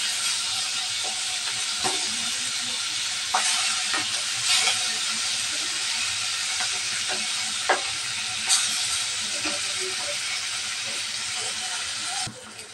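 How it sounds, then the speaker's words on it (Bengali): A piece of hilsa fish frying in a pan, a steady close sizzle with scattered pops and light scraping clicks throughout. "মাছটা এক পিস ভাজা হয়ে গেছে, উল্টে দেব"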